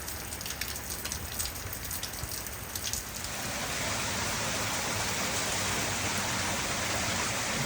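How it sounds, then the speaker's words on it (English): Heavy rain pours steadily on palm trees in a California storm with wind, a dense hiss that swells louder and fuller partway through and then holds even. "watching them trees in the wind with the rain"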